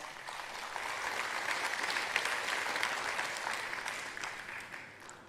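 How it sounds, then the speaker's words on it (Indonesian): A crowd at a public talk in Indonesia claps steadily and loudly for several seconds, a dense, even wash of applause with no pauses. "ya itu tepuk tangan buat kita semua."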